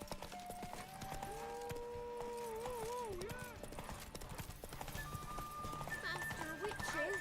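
Horse hooves clip-clop at a gallop in The Witcher 3, steady and rhythmic under background game music and a whinny, with a person talking over it.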